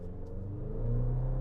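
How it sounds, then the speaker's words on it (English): A 2024 GMC Canyon AT4X pickup engine climbs in revs during a hard acceleration run on the road, a loud, steady rumbling drone building in pitch and intensity over a second and a half, close and alone. "time for a little acceleration run here in the Canyon."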